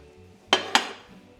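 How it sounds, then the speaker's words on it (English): Pots and pans clatter in a home kitchen during cooking, two sharp metallic clanks in quick succession, close and clear against a quiet background. "I'm gonna need another pan."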